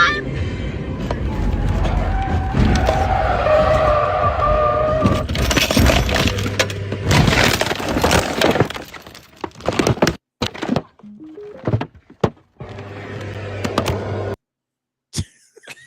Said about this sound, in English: She flipped the whole car over.